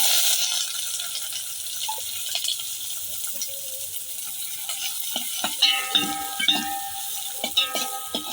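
Bay leaves and sliced onion dropped into hot oil for Kolhapuri mutton, a bright crackling sizzle that settles into steady frying, with clattering and stirring strokes from a spoon close by toward the end.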